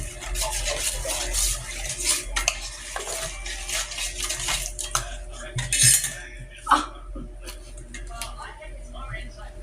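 A utensil stirs dishwashing liquid, salt and Coke in a pan, scraping and clinking against the metal in busy, uneven strokes over a faint watery slosh, while voices talk throughout.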